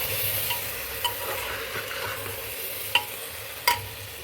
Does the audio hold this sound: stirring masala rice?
yes